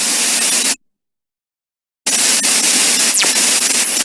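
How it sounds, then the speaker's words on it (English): A recreated cosmic radio burst comes through as harsh broadband static like CB or walkie-talkie squelch, in two loud hissing bursts separated by over a second of complete silence. "Some guys have created facsimiles, and all they sound like is a squelch on a CB or walkie-talkie."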